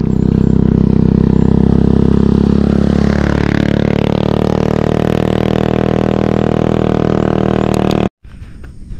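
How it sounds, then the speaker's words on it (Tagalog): A motorcycle engine roars loudly and steadily, revving under strain with a low, labored drone while climbing a steep road in the highlands of Ligao City near Mount Mayon, before cutting off abruptly near the end. "So kahit motor, hirap na hirap nga dito umakyat o."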